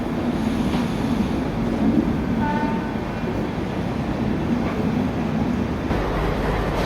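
On board the Magadh Express as a Rajdhani express overtakes, a loud, steady rolling rumble of train wheels and carriages continues throughout, with a brief faint tonal call partway through.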